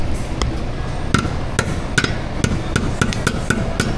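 A hammer rings out in sharp metallic strikes on a car's exhaust hanger hooks, roughly a dozen uneven blows close by over a steady background hum.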